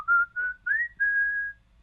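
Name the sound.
whistled imitation of the McDonald's jingle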